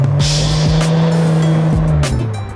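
A Nissan Skyline R34 four-door's engine holds a steady, loud drone throughout, with a sharp rise and dip in pitch near the end.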